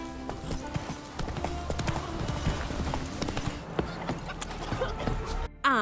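Horse hooves clip-clopping in a steady galloping rhythm in The Witcher 3, loud and close, over a continuous bed of game ambience, ending with a brief cut.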